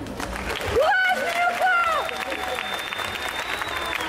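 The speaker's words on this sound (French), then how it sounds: "un tonnerre d'applaudissements pour Miyuko" Convention crowd at an indoor cosplay contest gives a cosplayer a steady round of applause, with cheers and a sung or whooped voice rising over the clapping early on before it settles into an even wash.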